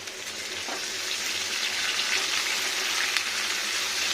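Carrot, flat beans, eggplant and potato fry in oil, giving a steady, fairly loud hiss throughout with no voices.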